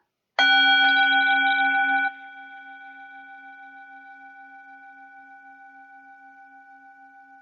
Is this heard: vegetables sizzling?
no